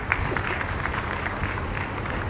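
An audience claps for Tiwari ji at a National Democratic Teachers Front teachers' gathering, producing a dense, steady wash of applause that stays even throughout.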